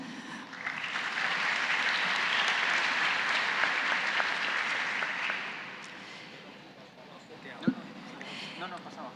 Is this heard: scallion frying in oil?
no